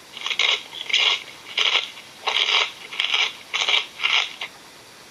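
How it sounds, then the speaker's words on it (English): A koala chews eucalyptus leaves with rhythmic crunchy chewing, a steady series of crisp munching bursts repeating about once a second, close and moderately loud over faint background hiss. "That's the sound of the koala munching on eucalyptus leaves."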